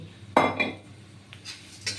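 Scraping and rustling as a utensil stirs puffed rice being dry-roasted in a metal pan, a few short bursts with quiet gaps between.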